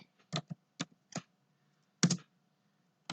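Keys on a computer keyboard are tapped in short separate bursts, a handful of clicks spread unevenly with pauses between them, close and fairly quiet with no talk.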